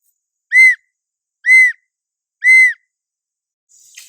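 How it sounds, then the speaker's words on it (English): A handmade bamboo whistle cut in the field with a knife and saw gives three short, bright, evenly spaced toots about a second apart, loud and close, followed by a faint rustle. "And now we should have a whistle."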